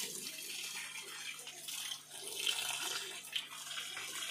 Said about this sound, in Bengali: পর্যাপ্ত পরিমাণে জল এইভাবে দিতে থাকবেন।